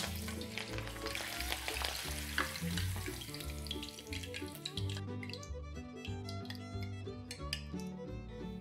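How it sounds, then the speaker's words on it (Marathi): Slit green chillies sizzle steadily in hot oil, a continuous close frying hiss that runs under background music throughout. "चमचमीत मिरची फ्राय करून घेऊया"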